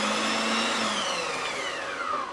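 A blender blitzes roasted pumpkin and basil dip, its motor whirring loud and close without a break, the pitch sliding downward slightly as the thick mixture churns.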